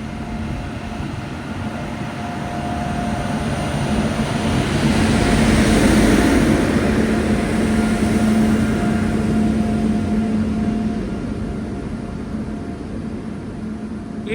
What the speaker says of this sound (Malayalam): Train number 16528 Kannur Yesvantpur express ഇത് പ്ലാറ്റ്ഫോം നമ്പർ 3 കടന്നു വരികയാണ്.